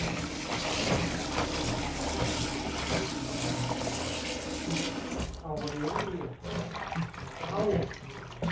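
Running water pours from a tap over pickled mustard greens being rinsed of brine for Isan-style pickles, a loud steady gush that turns into uneven splashing and sloshing midway, with people talking over it.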